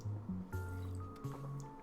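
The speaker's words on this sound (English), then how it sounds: "I'm just going to take a sip of the old water." Water being sipped and swallowed close to the microphone, soft wet gulping sounds with faint liquid squishes, alone without talk.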